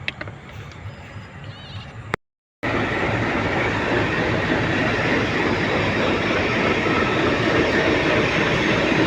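A train rolls through a railway yard at Balurghat station toward the sick line shed, a loud steady rumble of wheels and carriages that follows a brief cut, with a lighter background before it.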